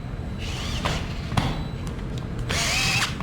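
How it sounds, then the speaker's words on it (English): DeWalt cordless screwdriver running in short bursts, a near whirring motor that rises and falls in pitch, with a sharp clack in between. "Okay guys, so got the screwdriver."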